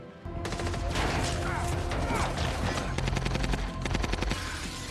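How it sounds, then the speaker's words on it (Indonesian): Gunshots fired from inside a workplace crackle in dense, overlapping volleys like rapid automatic fire, loud and continuous for several seconds, with sharper bursts clustering near the end. "Hutch dikagetkan tembakan dari dalam."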